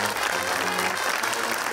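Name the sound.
studio audience applause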